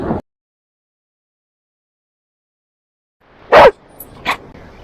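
Dogs on a wide Ventura beach give two or three short, loud barks close by after a brief sound at the start and a long quiet gap.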